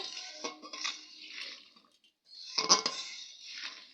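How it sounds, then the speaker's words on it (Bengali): A metal spatula clinks and scrapes in a pan as fried eggs are stirred into simmering gravy for egg do pyaza, in a few short close bursts separated by a brief pause. "এবারে ভেজে রাখা ডিমগুলো দিয়ে দেবো দিয়ে খুন্তি দিয়ে একটু নেড়ে দেব"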